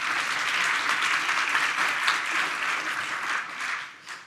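Conference audience at a restorative justice event clapping together in a dense, even burst of applause that holds steady, then thins and fades out toward the end.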